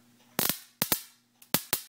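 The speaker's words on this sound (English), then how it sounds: "Anytime I do this spark" An MSD ignition box under repair fires sharp spark snaps: a single crack, then a quick pair, a faint tick, and three more evenly spaced cracks, each loud and close over a faint electrical hum.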